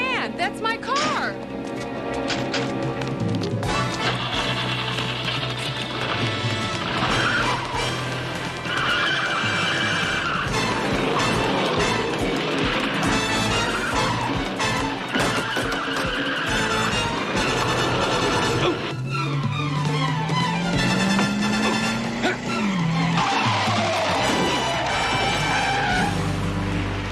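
A stolen car speeds off in a film scene, its engine roaring and tires skidding with a long squeal, mixed with loud dramatic music and people shouting and talking over it.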